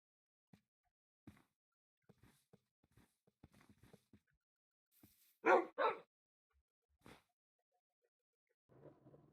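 Minecraft wolves, including a newly tamed Ashen wolf variant, give scattered soft yips and then two louder sharp barks in quick succession, set against quiet game sounds.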